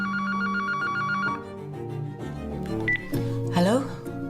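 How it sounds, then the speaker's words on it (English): A telephone rings with a bright repeating electronic tone for about a second, then tonal music and other sounds follow, one short burst only. "And then the phone rang."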